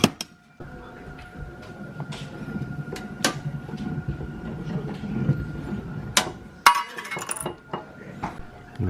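A hand-cranked souvenir penny press grinds and clanks nearby, with metallic clinks and knocks over a steady mechanical whir.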